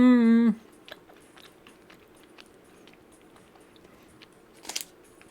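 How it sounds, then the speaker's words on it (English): Crunchy chewing of a nut bar, soft irregular bites and crunches close to the mic after a brief hum at the start, ending with a louder crunch. "this whole nut bar was actually really good"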